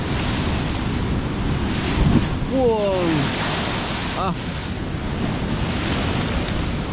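Storm-driven sea waves surge and crash onto a seaside boulevard in Dipolog during Typhoon Kristine, a loud continuous roar of surf and wind buffeting the microphone, with people briefly exclaiming over it.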